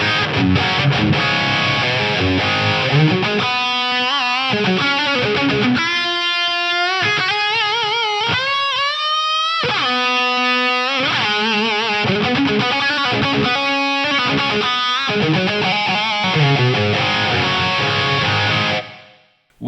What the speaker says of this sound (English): Wonderful thick reverb right there.